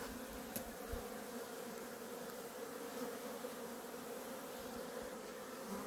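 Honey bees on a cleansing flight around their hives, a dense continuous buzzing swarm heard steadily throughout, moderately loud with one insect passing close, no voices.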